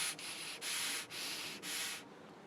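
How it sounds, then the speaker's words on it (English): Air blown by mouth through a narrow gas line tube makes four soft, breathy rushing bursts in a steady rhythm, faint and close, with no talking. "if I try blowing through here, you can hear it just barely goes"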